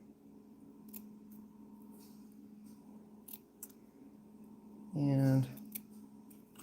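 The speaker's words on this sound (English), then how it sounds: "And then I'm going to cut a banner on this side." A pair of scissors makes one short, close, crisp cut through a paper banner on a card for a stamped parcel design. Quiet faint rustles come before it.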